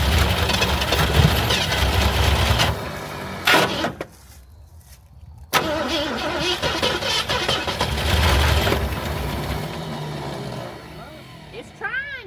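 An old Ford Maverick that sat unused for over twenty years cranks in long grinding bursts, breaks off into a short quiet gap, then cranks again unevenly. Voices talk over the noise.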